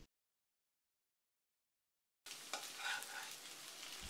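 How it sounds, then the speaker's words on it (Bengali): Egg being scrambled and stir-fried with vegetables in a pan for chicken chow mein, a steady close sizzle and frying crackle that starts abruptly after a silent stretch and continues alone. "ডিমগুলো হালকা স্ক্র্যাম্বল করে নিয়ে সবকিছুর সাথে মিশিয়ে নেব।"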